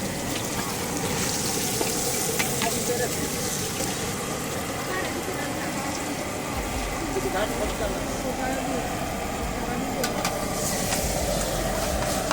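Fish heads frying in hot oil, a steady dense sizzle and crackle that runs the whole time without a break, with a faint low rumble underneath.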